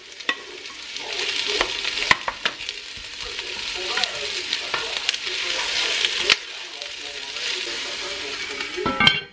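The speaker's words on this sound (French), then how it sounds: "Je vais faire chauffer l'huile maintenant et je vais faire revenir mes oignons." Onions fry in hot oil in a home kitchen, making a continuous close sizzle. Sharp clicks and scrapes from stirring break in now and then, and a faint voice sits low under the cooking.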